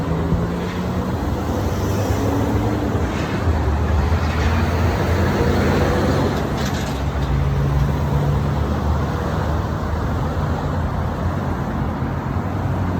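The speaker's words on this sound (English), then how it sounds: "besides the obvious dangers of speeding cars and really loud noise like that truck" Loud, broad roaring traffic noise fills the air, with heavy engine rumble swelling as a truck passes close by on a busy street.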